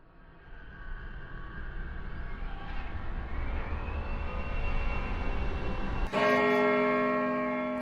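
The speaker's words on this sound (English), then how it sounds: "A church bell tingled, signaling the arrival of midnight." A church bell rings at midnight, one loud resonant strike with a long ringing decay arriving near the end, after a steady rumbling drone like a passing aircraft that builds gradually.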